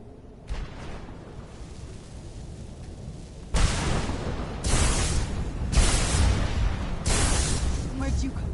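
Lightning spell thunder from Skyrim, with a faint first crack, then a run of loud, broad crashing bursts that roll one after another, close and heavy, with game sounds around them.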